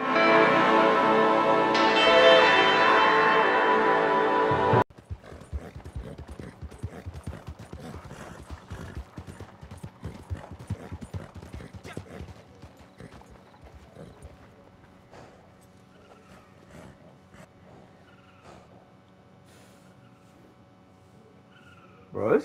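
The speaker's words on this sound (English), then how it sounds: "I need to calm my horse real quick. He's kind of spazzing out here" In the video game Red Dead Online, a horse whinnies loudly at first, then hooves clip-clop steadily at a walk for a long stretch, with faint mechanical clicks behind, growing quieter toward the end.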